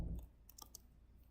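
Keys typed on a computer keyboard while entering comma-separated values, a few quick faint clicks after a low thump, close and quiet.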